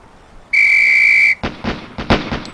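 A training whistle blown in the Police Quest SWAT video game, one long, loud, steady shrill blast followed by a quick series of sharp gunshots from a firing range.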